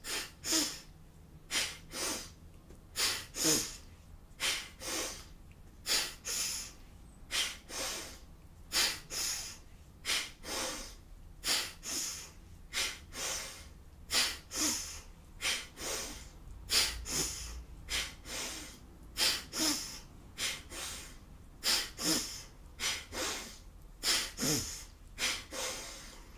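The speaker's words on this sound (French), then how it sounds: "Longues expires, longues inspires, et c'est parti. Narine droite, gauche." Alternate-nostril yoga breathing: long, slow inhales and exhales pushed through one nostril at a time, heard close and alone as a steady rhythmic series of airy nasal rushes with brief pauses between them.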